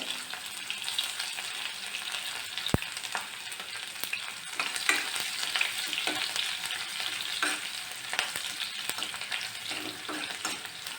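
Cumin and crushed garlic fry in a pan for raw mango sambar, making a steady, close sizzle with stirring scrapes and one sharp knock partway through. No one speaks.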